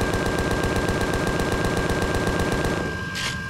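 Sustained, rapid automatic fire from a spaceship's guns in the space game Empyrion, a steady mechanical stream of shots over a constant hum, loud and close, stopping near the end.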